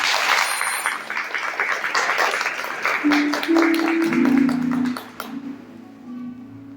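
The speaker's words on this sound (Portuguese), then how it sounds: "Vamos aplaudir a palavra de Deus" A church congregation claps together after the Gospel reading, a dense burst of applause that thins out and fades, with a sustained tone underneath toward the end.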